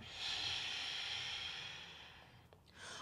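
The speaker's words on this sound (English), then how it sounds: "and breathing out." A slow, soft exhale during a calm evening yoga flow, a faint airy hiss that swells early and then gradually fades.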